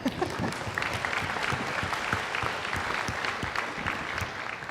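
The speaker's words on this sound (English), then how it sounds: "I think we need to clap for that one." An audience at a meeting room session breaks into sustained applause, dense overlapping claps rolling on steadily for several seconds with no talk over it.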